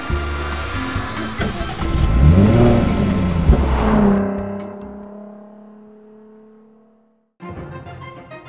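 A 2013 Jaguar F-Type or 2013 Porsche Cayman sports car driving off, its engine rising loudly through revs with a sweeping pitch before receding into the distance and fading out, followed by a brief burst of other sound.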